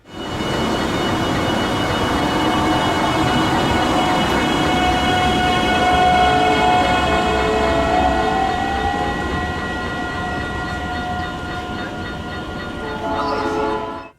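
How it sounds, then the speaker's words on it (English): South Shore and Norfolk Southern trains pass at Ogden Dunes, a loud continuous rumble of rolling cars with a sustained horn blast partway through, close and steady for the whole stretch. "at the same time the South Shore train pulled in, NS-26X also went through"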